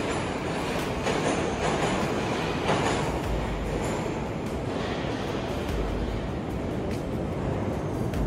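Moscow metro train pulling away from a station, a loud continuous roar of wheels and rumbling carriages with rhythmic clatter and a faint metallic squeal, heard from inside the moving car.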